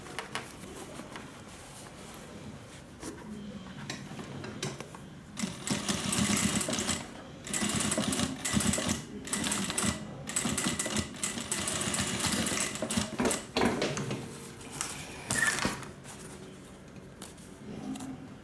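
A sewing machine stitches back over the strap section of a sling bag, running in steady rattling bursts with short pauses between passes, close and fairly loud.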